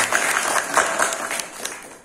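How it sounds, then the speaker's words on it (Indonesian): Applause from an audience honoring the Bandung team at a ceremonial gathering, a steady two-second wash of many hands clapping at moderate loudness, with no voices over it. "Tepuk tangan untuk seluruh Bandung"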